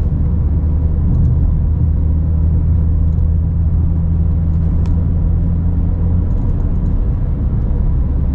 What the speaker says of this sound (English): sixth gear at 60 kilometers an hour. We've only got one gear left.